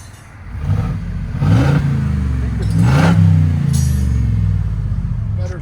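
Ford F-250 pickup with a 6.2L V8 and its exhaust valves open, revving in loud, deep swells that rise and fall twice, close by, with a voice briefly heard between revs.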